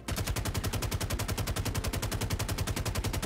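Automatic weapon fire from a rifle in Star Citizen, a steady rapid burst of evenly spaced shots running loud and continuous from start to finish with no talking.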